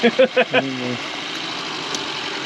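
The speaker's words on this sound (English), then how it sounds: "That's a working motor. It's running." After a few short vocal sounds at the start, the electric motor of an old Volkswagen race car, left sitting for over 25 years, runs with a low, steady, even hum close by.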